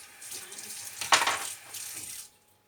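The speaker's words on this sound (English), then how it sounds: "choose the good leaves and give them a good wash" A tap runs as spinach leaves are washed, a steady close splashing stream with a brief louder gush in the middle, then it stops abruptly.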